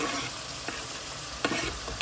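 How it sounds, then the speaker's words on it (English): Steady sizzling of saltfish frying in a pan with chopped vegetables and tomato, with a few scraping stir sounds breaking through; no voices. "we're just gonna make the saltfish just go on frying with the chopped vegetables"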